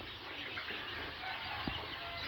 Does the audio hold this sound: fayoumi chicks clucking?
yes